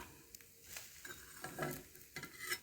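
Food being stirred in a pan over a wood-fired clay stove, with soft scraping strokes and light clinks over a faint sizzle, fairly quiet and close.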